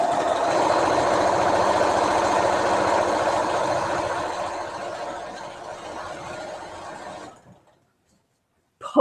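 A sewing machine stitches quilt pieces in a fast, steady mechanical whirr for about seven seconds, close by, then stops abruptly and falls silent.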